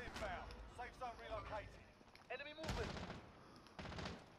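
Gunfire in a Call of Duty Rebirth Island match, sharp bursts of shots breaking in between stretches of someone talking, with a louder cluster of rapid cracks near the middle.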